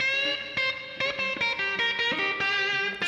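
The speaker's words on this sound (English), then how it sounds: "Put some more reverb time on." A mono electric guitar track with a reverb effect set to a longer decay time, playing sustained notes and chords whose ringing tails blur together, steady and fairly loud with no talk.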